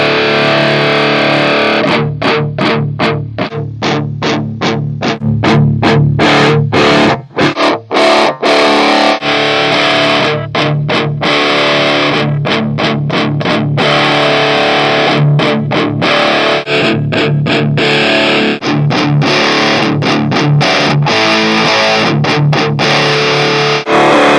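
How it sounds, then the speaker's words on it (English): Electric guitar through the Stone Choral Overdrive effect on an M-Vave Cube Baby processor, playing loud, distorted chorus-tinged chords with rhythmic strummed chops and brief stops, alone without talk. "This is Whoa, just W-O, Stone Choral Overdrive."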